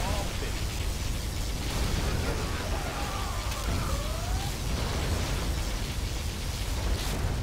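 Particle cannon blast in Command & Conquer Generals Zero Hour, a loud, dense roar of continuous rushing noise that fills the whole stretch with faint tonal sweeps inside it.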